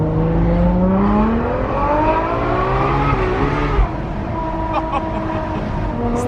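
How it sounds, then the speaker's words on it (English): A 900-horsepower, rear-wheel-drive Aston Martin with Pure Turbo 1000 upgrades accelerates hard on the road, its loud engine note climbing steadily, then dropping at a gear shift before pulling up again. "The Aston sounds pretty ridiculous. It's getting pure turbo 1000 upgrades for 900 horsepower."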